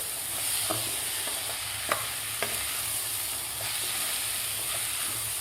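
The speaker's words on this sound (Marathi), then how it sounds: "डाळ आणि तांदूळ आपल्याला व्यवस्थित खालच्या मसाल्यामध्ये 1 मिनिटभर परतून घ्यायचे आहेत." Dal and rice sautéed in spice masala in a pan for khichdi, a continuous soft sizzle with occasional sharp clicks of a spoon stirring against the pot, close and steady with no talking.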